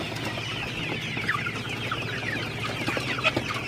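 Golden super hybrid chickens kept on a hobby farm make soft, scattered clucks at night, a few brief calls rising over a constant low hum in the coop.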